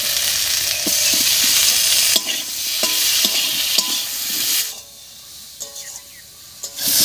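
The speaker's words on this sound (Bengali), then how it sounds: "টমেটোটা দিয়ে একটু ভাজা ভাজা মতো করে নিয়েছি।" Tomato frying with potatoes in a pan for tangra fish curry, a loud close sizzle with repeated scraping stirs that drops to quieter intermittent stirring toward the end.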